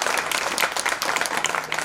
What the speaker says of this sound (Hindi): अपने सम्मान में ताली बजा रहे हो और कंजूसी के साथ।